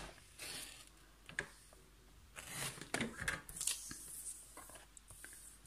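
Scissors cutting card stock along a drawn line for a Stampin' Up! advent calendar wardrobe craft, with scattered close snips and paper rustling, and someone talking quietly at times.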